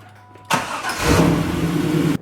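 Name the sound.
1999 Pontiac Firebird engine starting and idling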